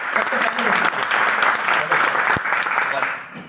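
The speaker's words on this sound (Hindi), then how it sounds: "बहुत पहले सर के लिए ताली" An audience at a business training meeting claps loudly for a speaker, a dense, sustained round of applause that fades out at the end.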